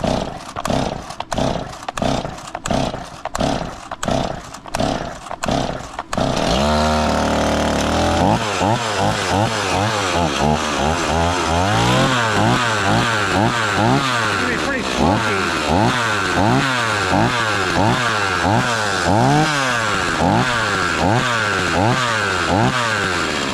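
Rebuilt STIHL 026 chainsaw, first a series of rhythmic pull-cord cranks, then the engine catches and runs loud and close, revving up and down repeatedly in rising and falling surges.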